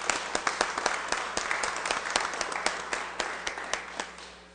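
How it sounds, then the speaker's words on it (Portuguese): A council chamber audience gives a round of applause to salute the national flag at an ordinary session, scattered individual claps forming a moderate, steady patter across the room without speech. "Pavilhão Nacional com uma salva de palmas."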